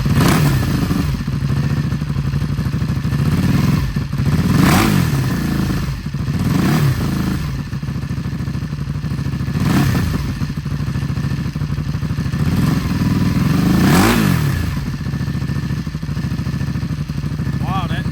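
A Honda Grom fitted with a swapped Ducati 1199 Panigale engine and a new Arrow exhaust, idling up close and then blipped through several sharp, throaty revs, spaced out over a steady running rumble.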